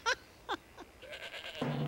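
A goat bleats in a few quick, nearby bursts: two or three sharp cries, then a longer wavering bleat at the end.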